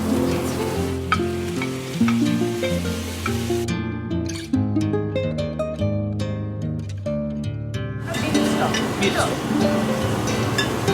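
Beef is added to a hot pan with vegetables for a beef and mushroom stroganoff, crackling and sizzling as it is stirred, with background music and talking over the frying.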